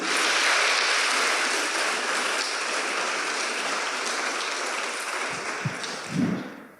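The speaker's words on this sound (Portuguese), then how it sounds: "Então dê um forte aplauso ao Senhor." Church congregation applauding loudly after a call from the preacher, dense sustained clapping filling the room and fading toward the end, with a few louder claps and no talk over it.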